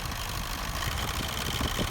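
A Mitsubishi Strada engine idling during a check-engine diagnosis, a steady, rough low rumble with faint knocking pulses, close and continuous with no voices.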